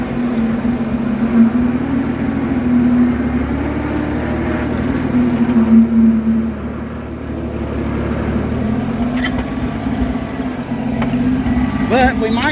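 An Oliver 770 tractor pulling a John Deere baler drones along with a steady, even engine hum and a faint higher whine, while a voice talks over it throughout.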